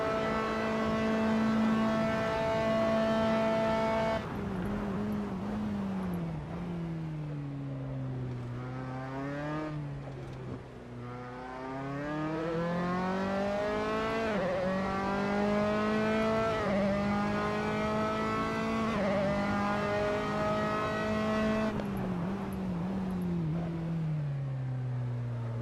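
An F3 race car engine at Spa in a racing game drones steadily throughout, pitch climbing through gear changes and dipping under braking, with a brief drop midway; close, continuous and unaccompanied.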